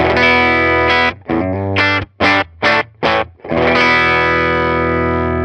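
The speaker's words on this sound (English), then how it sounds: "Right now we're on the blue 15 watt Alnico from Jensen." Overdriven electric guitar through a Universal Audio UAFX Woodrow '55 amp and a blue 15-watt Jensen Alnico speaker plays a held chord, then a few short choppy stabs, then rings out again, loud and gritty.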